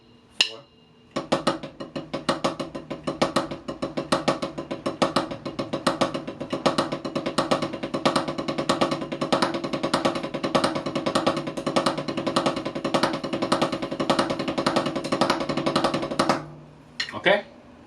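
A drum kit plays an accented paradiddle rudiment for about fifteen seconds, with rapid, even stick strokes and regular louder accents. A brief spoken count comes before it, and it ends in a short pause and one final hit.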